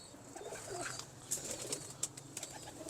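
Dab breed pigeons coo softly and close by, a few low murmuring calls mixed with brief sharper chirps and rustling, with no one talking.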